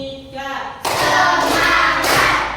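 Hand clapping in a classroom clap game led by a teacher, a voice speaking first, then bursts of clapping that begin abruptly and continue in broad, loud blocks.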